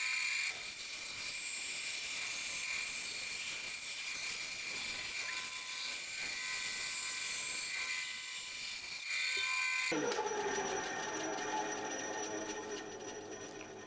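A power tool cuts out a wooden antler mount plaque, a steady, loud whining drone running throughout with a sharp change in tone near the end as the cut shifts.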